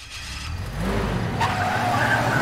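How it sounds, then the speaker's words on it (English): A pickup truck engine in the Life Is Strange video game cranks and catches, rising into a steady loud rumble that continues to the end, close and alone without talk. "How's she gonna start up this honky-tonk truck without alerting everybody?"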